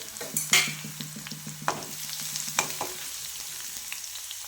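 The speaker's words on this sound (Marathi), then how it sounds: "कुटलेलं लसूण टाकून घ्यायचा, असं परतून घ्यायचं." Crushed garlic sautéing in hot oil, with a soft steady sizzle and a few light stirring scrapes, close and quiet, with no voices.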